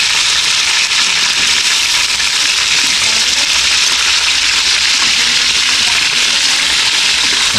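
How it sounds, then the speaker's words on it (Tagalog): Chicken pieces frying in hot oil for pininyahang manok, giving a loud, dense, steady sizzle and crackle that fills the whole stretch without pause. "Gantong fried lang gagawin natin sa lahat ng mga manok."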